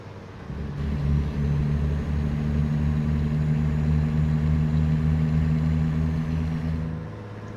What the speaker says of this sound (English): It does have a engine brake. Sounds pretty good.